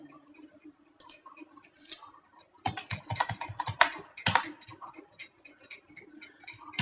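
Computer keyboard typing while entering accounting figures into an Excel spreadsheet, scattered light clicks at first, then denser bursts of keystrokes with short pauses, close and clear with no talk.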